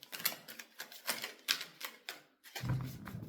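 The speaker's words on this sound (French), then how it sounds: "Elles sont très dures à mélanger parce qu'elles sont épaisses." Thick oracle cards being shuffled by hand in a steady run of soft riffling flicks, close and fairly quiet, ending in a brief pause and a duller rustle.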